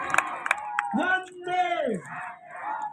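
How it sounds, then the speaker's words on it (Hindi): A crowd at a disaster-control day event by Fatehsagar Lake shouts back a patriotic chant in unison, a few loud bursts and drawn-out voiced calls rising and falling over about three seconds. "एक बार सभी जोर से बोलेंगे भारत माता की"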